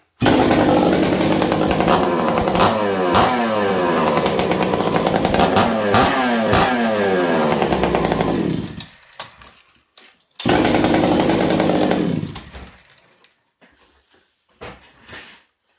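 A Husqvarna 266 chainsaw fitted with a Hogans pipe exhaust roars loud and close at high revs, dropping to idle and cutting out, then revving hard again before winding down.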